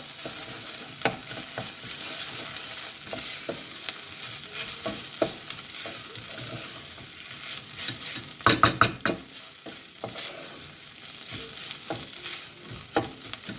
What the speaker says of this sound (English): Let's just give that a mix in.